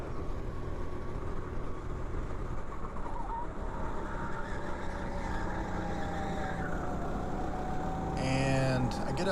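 Racing kart engines drone steadily on a track through the lap, with a sharper rising engine note near the close; no talk heard.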